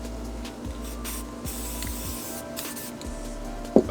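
An aerosol can spraying satin green paint onto a saddle hunting platform, heard as a close, steady hiss broken by short pauses between bursts, with no voices.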